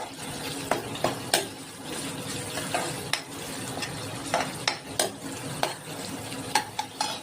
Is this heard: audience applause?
no